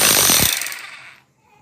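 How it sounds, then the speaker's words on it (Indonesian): Mailtank rotary hammer drill briefly running in impact-only mode, a loud close rattling burst that winds down and fades to quiet within about a second. "Ini hanya untuk impact."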